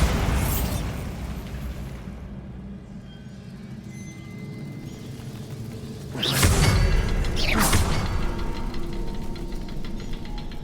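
A Bombarda spell blast in Hogwarts Legacy, with two loud booming bursts about a second apart that ring out over a constant rumbling game background, and no voices.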